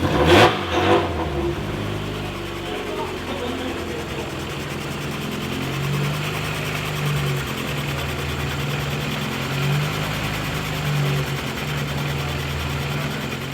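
A car fitted with a rebuilt, fully forged 1.7 litre engine revs sharply once at the start, then settles into a steady, close idle with a slight hum that runs on alone.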